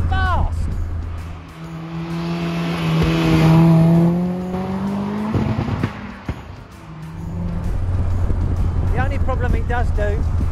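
A Mazda RX5 Turbo sports car is driven on the road, its engine note climbing and swelling in the middle of the stretch before settling, with a person talking over the engine at the start and end.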